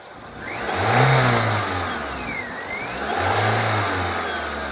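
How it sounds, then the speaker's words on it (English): A Toyota Corolla with a lean-running fault revs up twice from idle, the engine rising and falling in pitch up close with a steady hum between bursts. "Rev it."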